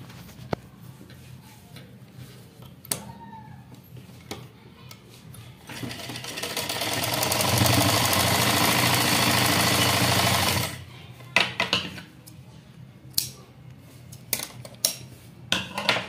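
A sewing machine stitching the back piece of a bordered blouse, one steady whirring run of about five seconds in the middle, with scattered clicks and handling taps of fabric before and after.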